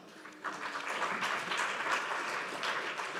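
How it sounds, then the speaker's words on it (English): Conference audience at a fisheries and aquaculture session breaks into applause, starting abruptly after a brief pause and continuing as a dense, even clatter of many hands. "a big round of applause to all of you in the audience"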